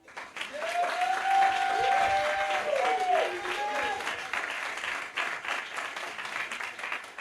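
A church congregation applauds for Jesus during a sermon, sustained clapping from many hands with voices shouting and a speaker's voice rising over the crowd.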